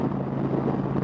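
Wind buffeting a microphone outdoors, a steady low rumbling roar that fills the whole second with no gaps and no talk over it.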